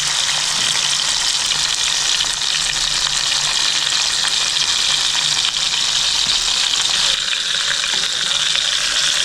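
Chicken leg pieces frying gently over low heat in oil already used to fry onions, giving a loud, unbroken close-up sizzle with no talking.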